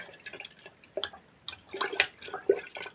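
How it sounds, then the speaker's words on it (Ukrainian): Yeast solution for a plant feed being stirred in water: irregular light splashes, swishes and small knocks close by, with no talking. "Так, тепер це розмішуємо."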